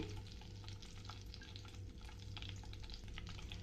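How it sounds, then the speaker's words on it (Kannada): Cardamom pods, cloves and a piece of cinnamon frying in melted butter in a pan for biryani, making a soft, even, continuous sizzle that stays low and steady throughout, with no talking. "ಅದೊಂದು ಸ್ವಲ್ಪ ಎಣ್ಣೆಲಿ ಫ್ರೈ ಆಗ್ತಿದ್ದಾಗೆ"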